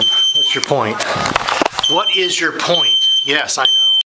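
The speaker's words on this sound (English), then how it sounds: "Yes, that's a smoke alarm." Kitchen smoke alarm shrieking with a steady high piercing tone throughout, loud and close, while people talk over it.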